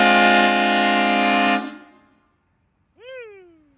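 A vehicle-mounted horn blaster air horn gives one loud, sustained blast of about a second and a half, then cuts off into silence, followed by a short faint trailing tone.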